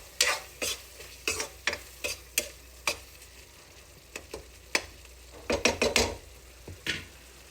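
A spoon stirs curry with turmeric and red chili in a pan, giving a series of sharp scraping clacks against the metal in irregular bursts over a faint background sizzle, close and with no talk.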